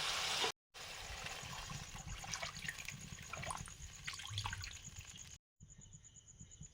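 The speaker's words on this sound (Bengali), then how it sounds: "এবারে পরিমাণ মতো জল দিয়ে দেবো" Water is poured into a cooking pan for a potato and fish curry, a steady splashing stream running for several seconds between short breaks.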